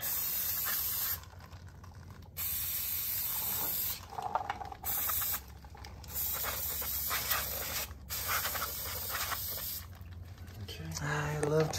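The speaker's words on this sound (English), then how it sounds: "I'm just gonna spray that rotor out, make sure we don't have any fingerprints or grease or anything on the inside of it" Cleaner sprayed onto the brake pads and rotor of a travel trailer axle with Dexter hubs, in several long hissing bursts separated by short pauses, close and loud, with someone talking between them.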